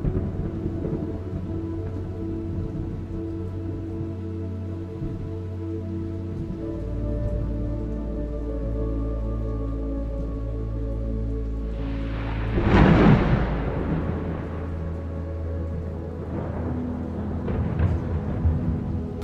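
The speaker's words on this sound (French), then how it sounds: "Le tonnerre résonne à travers les cieux et dans votre âme" A deep, steady thunder rumble rolls on under falling rain, swelling into a louder crack and roll near the middle before easing off.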